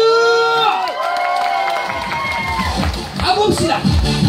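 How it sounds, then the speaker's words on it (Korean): A crowd at a beach fire show event cheers and claps, rising shouts and rough applause over loud amplified music and a voice through a PA. "다 같이 함성 박수!"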